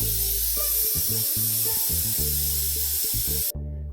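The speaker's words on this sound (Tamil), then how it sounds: "நல்லா கொதிச்சாச்சு பாருங்க" A steady broadband hiss of horsegram rasam at a rolling boil in a pot, with low bubbling pulses underneath, loud and close, cutting off abruptly near the end.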